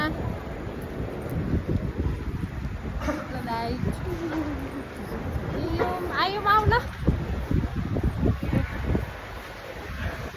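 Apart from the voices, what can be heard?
wind at airport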